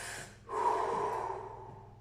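One deep breath drawn in before firing a shot, a soft close inhalation swelling after a short pause and then slowly tapering off, quiet and alone.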